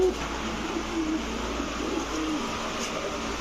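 A male Rajshahi Giribaz pigeon coos softly in a few short low calls over steady background noise, with faint voices nearby.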